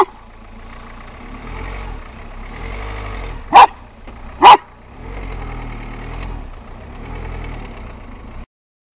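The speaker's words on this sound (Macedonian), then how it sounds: "Мари куче." A dog on a documentary outing at Bistra gives two sharp, loud barks a second apart over a low idling engine rumble.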